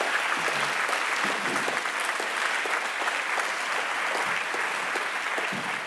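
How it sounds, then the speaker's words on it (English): Sustained applause from an audience at a climate agreement signing ceremony, dense steady clapping that holds at an even loudness throughout without letting up. "Let's have a round of applause for these wonderful folks."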